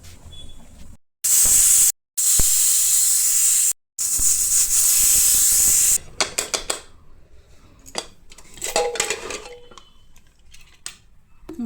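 Pressure cooker on a stove during a mutton curry and rice cook, releasing loud, steady bursts of hissing steam broken by short gaps, then fainter clinks and clatter of kitchen utensils.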